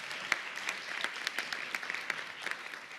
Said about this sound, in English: A warm round of applause for all the panelists and for Gary as well.